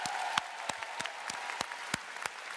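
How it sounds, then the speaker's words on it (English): Audience applause at a PlayStation Experience keynote in Anaheim, a steady wash of many hands clapping with sharp individual claps popping through, loud and sustained throughout. "I really give yourselves a round of applause for joining us here in Anaheim."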